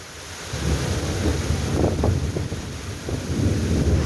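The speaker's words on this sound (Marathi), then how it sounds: "विजांच्या गडगडाटासह पावसाच्या सरी बरसल्या" Thunder rumbling with steady rain during an unseasonal pre-monsoon storm in Maharashtra, a continuous loud wash of rain and wind buffeting with low rolling thunder swells, no voices.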